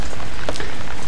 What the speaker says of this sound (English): Here we have the ventilation system from the top in rain, as usual.